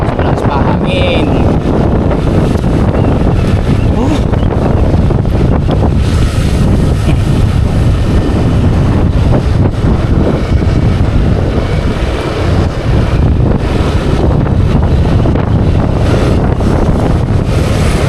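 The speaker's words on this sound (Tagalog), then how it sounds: "Malakas pa hangin." Strong wind buffets a boat at sea, a loud, constant roar of gusts against the microphone mixed with waves and water motion, with voices talking underneath.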